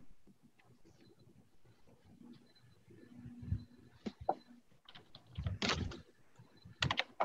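Computer keyboard typing while writing Java code in the Eclipse editor, a faint, sparse run of key taps and a few louder clacks near the end, close and quiet with light room noise.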